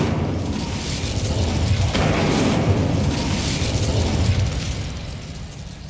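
The Incendio fire spell in the game Hogwarts Legacy gives a loud, continuous whooshing roar of flames with booming bursts, swelling and fading over several seconds.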